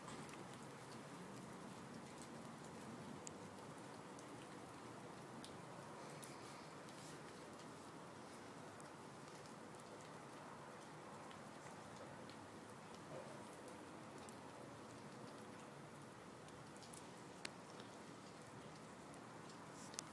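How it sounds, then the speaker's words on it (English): Steady rain falls outdoors during a thunderstorm, a soft even hiss of drops with faint scattered ticks, fairly quiet and without talking. "It's raining at the same time."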